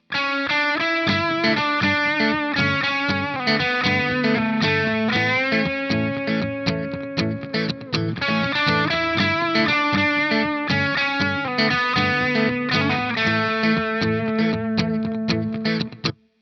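Distorted electric guitar playing a guitar solo, a continuous melodic line with sustained, effects-heavy notes, loud and unbroken throughout.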